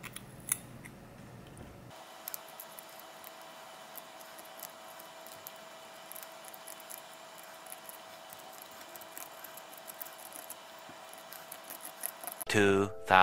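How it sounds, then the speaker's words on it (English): Two tweezers scrape GSP coral off a porous frag plug, making faint, close scratchy clicks and taps over a quiet background hum. "I am gonna use two tweezers to try to scrape the GSP off"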